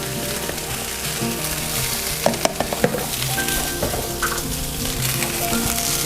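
Fresh garlic sizzles and fries in margarine in a home pan, a steady dense crackle with a few sharp stirring knocks and clinks partway through, close and fairly loud.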